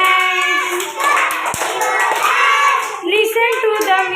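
Hands clap along to a loud children's action song, the claps coming as sharp taps scattered under the singing, with children's voices and a small crowd mixed in.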